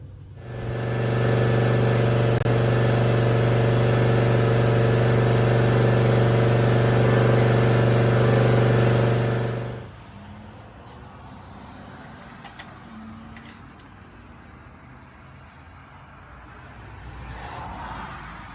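A 2023 John Deere Z320R zero-turn mower engine runs steadily and loudly from about one to ten seconds, then shuts off, leaving quiet background.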